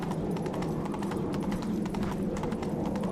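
Horse hooves clip-clop steadily in The Witcher 3, a continuous rhythmic trotting over a low windy rumble in a tunnel, with no talking.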